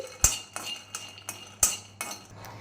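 Peanuts dry-roasting in a pan on low flame, with a utensil scraping and clinking against the pan in a steady rhythm of about six sharp strokes, close up, with no talking.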